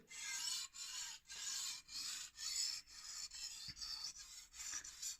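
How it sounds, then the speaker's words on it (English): Knife blade rubbed back and forth on a small sharpening stone, a dry, rasping scrape repeated in about nine even strokes with brief pauses between, close and quiet. "with this hand I lock in the angle, and I just start to rub it"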